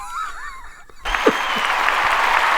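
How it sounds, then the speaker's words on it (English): Audience applause breaks out right after a joke lands on a comedy show, a sudden burst of clapping that swells and holds steady, following a brief stretch of talk. "Give yourself applause."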